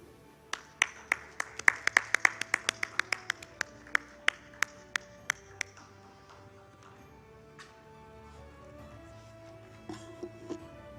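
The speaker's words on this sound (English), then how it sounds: "Ladies and gentlemen, please put your hands together for the AVP of Infrastructure and Facilities at Bandhan Life, Mr. Sanjay Suri." An audience at a wellness and healthtech summit claps as a speaker is introduced, a handful of sharp nearby claps in quick succession that thin out after a few seconds into quiet room sound.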